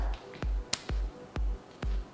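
Hand claps during jumping jacks in a school class exercise, four sharp claps spaced about half a second apart, each a crisp close transient over low thumping from the jumps.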